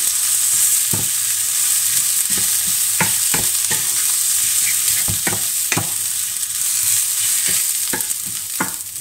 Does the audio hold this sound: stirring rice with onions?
yes